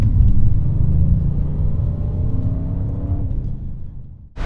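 A 2020 Audi RS6 Avant launching hard on launch control, its engine a loud, steady roar with rising tones as it accelerates for about four seconds before cutting off abruptly.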